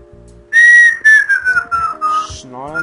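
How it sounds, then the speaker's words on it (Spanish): A person whistles loudly and close by in a wavering, descending melody broken into short phrases, over low background game tones and without talking. "No, no empieces a silbar"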